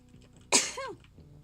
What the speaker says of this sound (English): It was actually my throat that was itchy that made me sneeze.